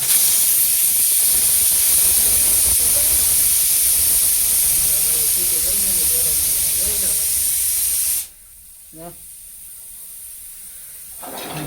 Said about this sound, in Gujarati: કુકર તો ધોવાડા કાઢે